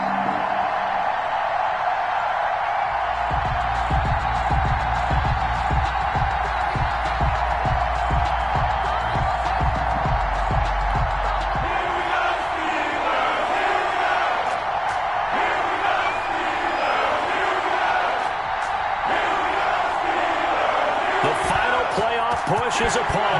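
A stadium crowd in an EA Sports NFL video game, Buffalo Bills against Pittsburgh Steelers, roars in a dense continuous wash, with thumping low hits early on and swelling cheers.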